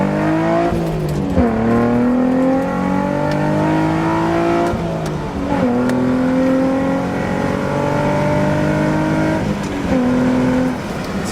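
A manual-transmission Infiniti G35 under hard acceleration, its engine note climbing loud and close through about three upshifts, each shift dropping the pitch before it rises again.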